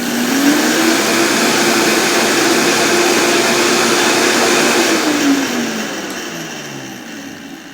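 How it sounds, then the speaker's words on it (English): Kitchen blender whirring loudly as it grinds panko into fine breadcrumb powder, a steady motor whine with a rising then falling pitch, running alone near the mic before slowing toward the end. "you put it in the blender, and you blend it super fine"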